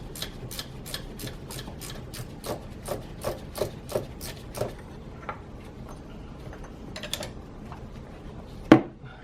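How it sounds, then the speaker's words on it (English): Bolts coming off a Saab 9-5 thermostat housing make a dozen evenly spaced, sharp ratchet-like clicks, then scattered softer clicks and one loud metallic clank near the end, all close up with no talking. "I'm going to remove those bolts now and hopefully get this housing off"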